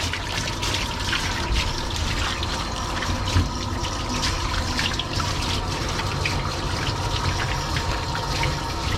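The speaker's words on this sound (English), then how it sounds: "So now I'm just going to rinse." Running water rinsing a Schnauzer during grooming, a steady close splashing and trickling flow with small irregular spatters, continuous and fairly loud.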